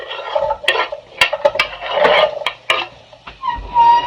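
Diced onion, carrots and garlic tipped into a pan for a beef and broccoli stir fry: close, sharp clinks and clatters of utensil on pan mixed with a soft rustling tumble of pieces, a faint low rumble beneath.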